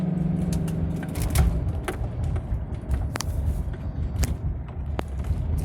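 A 2002 Land Rover picking up speed on a road, with steady low engine rumble and road noise inside the cabin, plus a few brief clicks and knocks over the drone.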